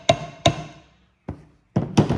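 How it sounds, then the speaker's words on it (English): A hammer tapping a sprocket onto the shaft of a John Deere snowblower, heard as five sharp metallic taps, two spaced early, one after a pause, then two close together, near and clear with no talking. "Another little trick you can do is start with gently taking a hammer."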